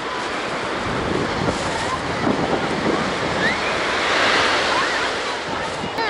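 Ocean surf on a Florida beach in November washes in a steady hiss with gusts of wind buffeting the microphone, a swell rising and falling midway.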